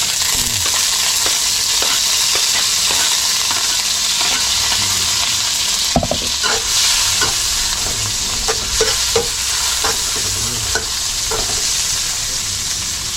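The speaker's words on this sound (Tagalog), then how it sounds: "Tapos lagay natin yung bawang tsaka yung sili." Garlic and chili sizzling steadily in a hot pan, a loud, close, continuous frying hiss with scattered pops and crackles and the odd scrape of stirring.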